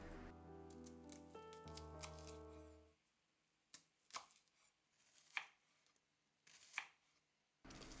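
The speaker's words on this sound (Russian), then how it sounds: "И теперь нарезаю луковицу." Crisp knife chops slice a red onion on a cutting board, a few sharp strikes spaced out after a stretch of louder background, close and clear.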